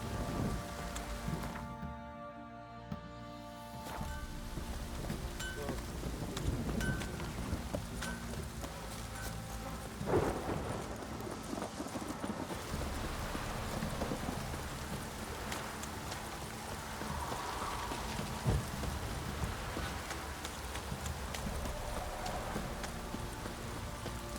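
Rain falls steadily during a thunderstorm in Witcher 3, with soft thunder rumbles and horse hooves clopping through the downpour, and a faint voice briefly heard beneath the weather.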